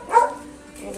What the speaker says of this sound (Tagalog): Aso namin.